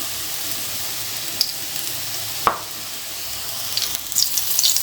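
Oil heating in a wok (kadai) gives a soft, steady sizzle with a sharp clink midway and brighter crackles building toward the end, close by and without talk.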